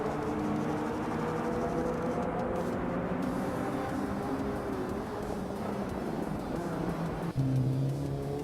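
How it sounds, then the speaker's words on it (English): Vintage 1986 BMW M3 E30 race car engine in a racing game at Paul Ricard, a steady loud drone of several engines with sustained tonal harmonics and a pitch shift near the end. "the race kicks off at the Paul Ricard WTC track with Frogsworth on pole, behind the wheel of a classic 1986 BMW M3E30"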